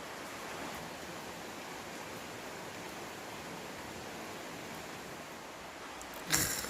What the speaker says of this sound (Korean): 빗소리 들리실지 모르겠는데